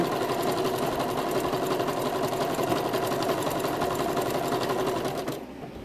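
Electric sewing machine stitching fabric turkey pillows, a steady fast whirring hum running close and loud throughout, stopping abruptly near the end.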